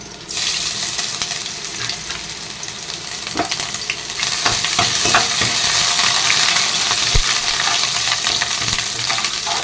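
Ginger, dried chillies and cumin frying in hot oil for a Tamil Nadu-style yogurt curry, a loud, continuous sizzle that grows fuller partway through, marked by a few sharp spatula taps, with no voices.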